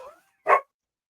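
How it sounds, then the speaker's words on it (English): A single short dog bark sounds indoors at a house, one sharp woof after a faint trailing sound, then silence. "Gotta love the dog."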